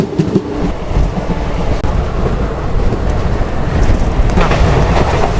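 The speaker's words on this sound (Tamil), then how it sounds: "சூப்பரான ஒரு கர்வுங்க ட்ரெயின் திரும்புறது அப்படியே தெரியுது" Mangaluru Central Express rolling through a curve between Pondicherry and Coimbatore, heard from on board as a loud steady rumble with wheel clatter and wind buffeting, constant and close.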